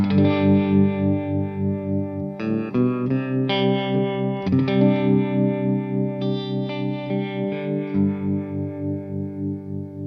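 A sequence of electric guitar chords rings out through a Walrus Audio Monumental pedal in harmonic tremolo mode, the tone gently pulsing and shifting as chords change, loud and with no voices.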